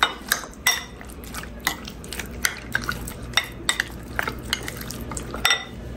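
Chicken pieces are mixed with a single egg in a bowl, giving wet squelching stirs punctuated by sharp clinks of utensil against the dish in an irregular rhythm, fairly close and moderately quiet.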